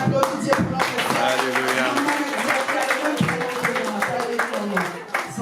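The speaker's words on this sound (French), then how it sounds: "On applaudit Dieu pour notre Seigneur." A church congregation claps along steadily under loud singing and voices, the rhythmic hand claps continuing throughout.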